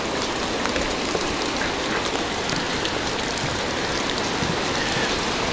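Floodwater pours across a muddy residential driveway after a rare local flood. It makes a steady, loud, broadband rushing wash, like a stream or heavy rain, that stays unbroken throughout with no voices.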